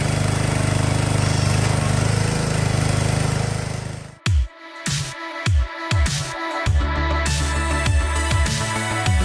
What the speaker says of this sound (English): I think we got this log splitter.